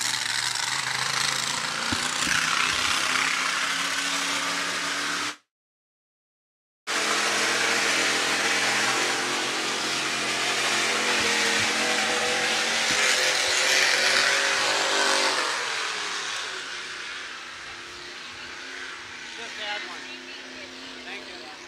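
A hydroplane race boat engine starts at the dock at a regatta, roaring and rumbling continuously, briefly cutting out before roaring on again, then easing; a voice talks over it.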